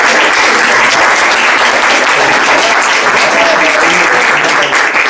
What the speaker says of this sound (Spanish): yo ya pedí un aplauso